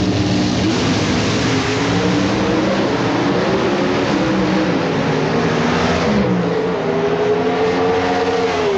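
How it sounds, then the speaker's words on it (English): Drag racing car engines in 1994 NHRA competition hold a loud, steady roar above idle at the start line, continuous and close with shifting tonal layers and no speech. "The motors are at least up off of idle at the moment."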